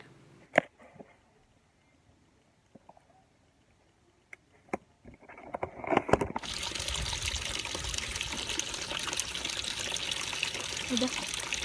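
A kitchen tap runs steadily while dishes are washed at home, the water starting abruptly partway through after some scattered clinks and knocks, then gushing continuously and fairly loud.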